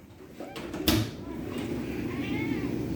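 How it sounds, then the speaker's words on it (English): A hungry cat meows close by, a single clear cry near the start followed by softer vocal sounds over a quiet room background. "I think, a hungry cat."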